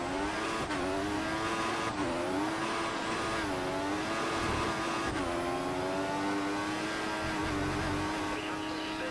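Formula One race cars on the Valencia street circuit in the F1 2014 video game, engines whining steadily at high revs with pitch shifts through gear changes, continuous and loud.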